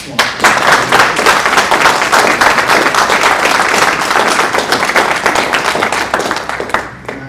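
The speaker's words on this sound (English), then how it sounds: "can we give a round of applause?" An audience at a university minority alumni panel discussion gives a round of applause, a loud, dense burst of many hands clapping close by, holding steady for several seconds before thinning out at the end.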